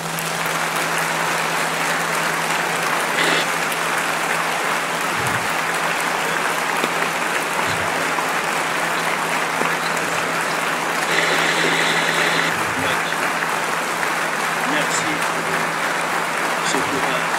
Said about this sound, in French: Regardez comment les gens ont applaudi à la fin